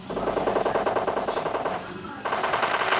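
Rapid automatic gunfire rattles in a PUBG Mobile Lite team deathmatch, loud bursts firing continuously with a brief pause near the two-second mark before shooting resumes.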